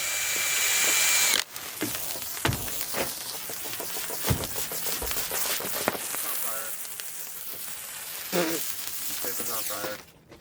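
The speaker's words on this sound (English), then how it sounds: "Along with this sparkler on a drill." A power drill with a lit sparkler attached whirs steadily, its motor buzz laced with crackling, fizzing sparks and occasional sharp clicks, loud and close for about ten seconds before cutting off.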